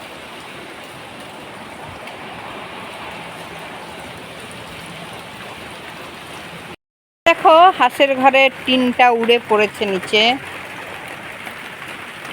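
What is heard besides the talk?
heavy rain falling on a rural village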